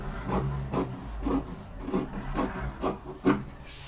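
Scissors cut through Mikado silk fabric for a dress in a series of about eight rhythmic, crisp snips, close and moderately quiet with no talking.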